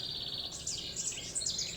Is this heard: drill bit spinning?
no